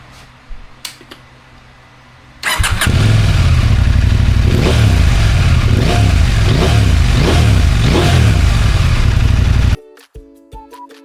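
A KTM 890 Adventure R motorcycle fitted with an Arrow exhaust starts with a sharp burst and idles loudly, then revs up and down in repeated blips before cutting off abruptly, with faint clicks and rustle before and after.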